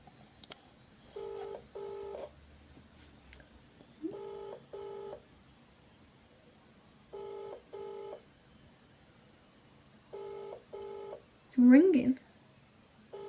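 Repeated pairs of electronic telephone ring tones pulse at steady intervals, faint and thin as if through a handset, with a voice briefly speaking near the end.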